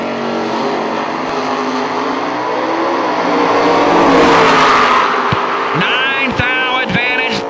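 A bracket-racing Camaro launches down a drag strip at a bracket racing event, its engine roaring loud and sustained, swelling as it pulls away, while an announcer's voice carries over the track.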